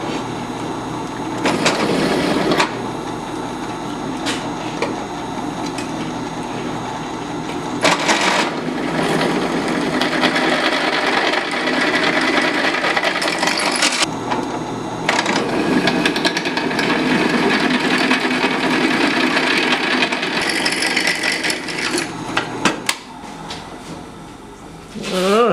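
A drill boring holes with a 27/64 bit into steel for a movable welding vise, loud grinding bursts that start and stop several times, with short pauses between them.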